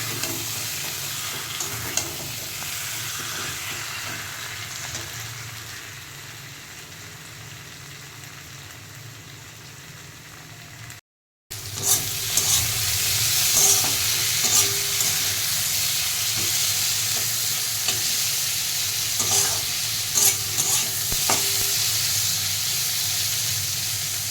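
Food sizzles steadily in a hot pan with faint stirring scrapes; the frying briefly drops out midway, then returns louder and crackling.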